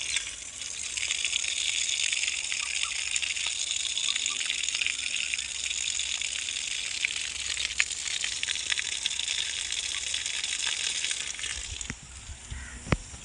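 Water gushes steadily from a hose or pipe onto fruit plants in a home garden, a continuous hissing flow that lasts nearly the whole time before a few soft knocks near the end.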